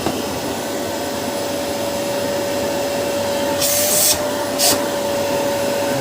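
A Samsung SC4326 vacuum cleaner runs steadily during a suction test, giving a loud, constant whining drone with a thin steady tone. Two brief hissing bursts of airflow break through near the end.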